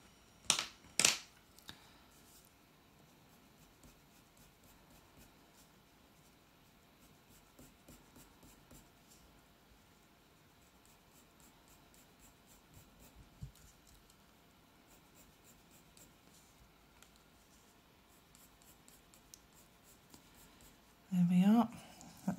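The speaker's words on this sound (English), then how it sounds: "It makes such a difference when you blend it and then go over it with the finer pencil." A fine coloured pencil scratches and strokes across paper while drawing a Cocker spaniel's ears, making soft, faint, irregular scribbling taps and rubs with quiet gaps, a couple of sharper knocks at the start and a brief louder rustle at the end.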